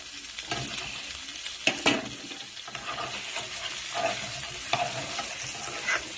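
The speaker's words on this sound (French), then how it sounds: "j'aime bien tourner mon gambas" Prawns are stirred as they fry in a pan: close scraping strokes rise and fall in an irregular rhythm over a steady sizzle, with no talking.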